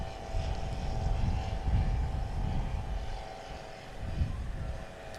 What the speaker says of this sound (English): Gary Vargas turning left base.